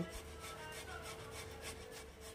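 Boiled potato rubbed by hand across a kitchen grater, a steady soft rasping scrape repeating in quick strokes, close and fairly quiet, with no voices.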